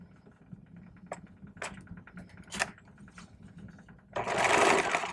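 A serger sewing machine stitches a side seam on a piece of fabric, starting with a few faint clicks and taps, then a loud, fast, steady whirring run of stitching up close.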